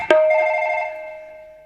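A telephone bell rings once, starting with a sharp strike and then a steady, loud metallic tone that slowly fades over a second and a half, with no voices.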